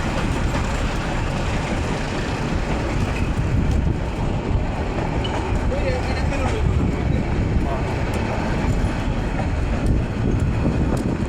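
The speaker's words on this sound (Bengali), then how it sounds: "আমরা দেখলাম গ্যান্ডারিয়া রেল স্টেশন থেকে একটি ট্রেন ছেড়ে যাচ্ছে।" A train leaves Gandaria railway station with a continuous, heavy rolling roar and faint clatter of wagons passing nearby, mixed with wind buffeting the microphone.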